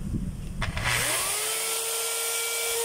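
An electric motor with a rewound armature is plugged in and spins up, a rising whine that climbs quickly and settles into a steady high-pitched hum, preceded by a few knocks and clatter.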